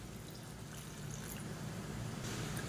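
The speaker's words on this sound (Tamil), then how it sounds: "இப்போ இதில் நல்ல ஒரு 4 டம்ளர் அளவுக்கு தண்ணி சேர்த்துக்கலாம்" Water poured into a chutney cooking pot in a home kitchen, a steady close pouring wash that swells slightly toward the end.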